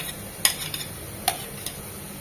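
Chicken frying in a pan for a noodle dish, with coarsely chopped onion added: a low steady sizzle broken by three or four sharp utensil clinks and scrapes.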